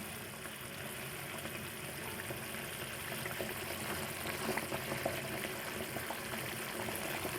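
Hilsa fish curry with whole green chilies bubbling in a pan, a steady low wash of boiling and simmering liquid with faint popping bubbles throughout, quiet and continuous without speech.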